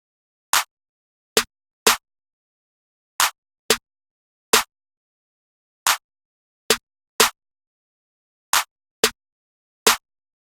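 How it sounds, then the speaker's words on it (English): Hard low-tempo beat programmed in FL Studio, heard as sharp, evenly spaced clap and snare hits in a sparse repeating pattern, loud and dry with silence between each strike. "So every other clap, there's going to be a snare playing on top of it, and then just like that bounce snare."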